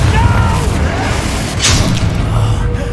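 An Incendio fire spell cast in the video game Hogwarts Legacy, heard as a loud rumbling boom with a brief whooshing burst in the middle, thick and close over dense game noise.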